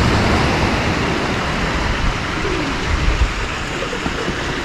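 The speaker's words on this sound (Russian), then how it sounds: "Местные голуби. Живут они здесь." Pigeons cooing softly on a beach in Lazarevskoye amid a steady, loud outdoor rumble, the low calls faint and intermittent.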